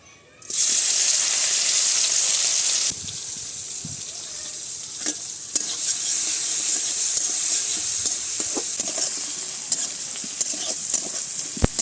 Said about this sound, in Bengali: এবার চিংড়ি মাছগুলো ভালো করে ভেজে নেব